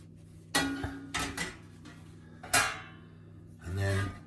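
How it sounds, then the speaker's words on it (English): A clean kitchen towel is scraped and rubbed over the bottom of a metal pan in a few short, rough bursts with pauses between them, ending in a duller, longer wipe. "I've got a bit of clean kitchen towel. I'm just going to rub that over the bottom of the pan."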